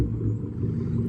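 A 2024 Ford Mustang GT S650 V8, revved remotely from the key fob while parked outside a bowling alley, gives a steady low, throaty rumble, close and fairly loud with no one talking.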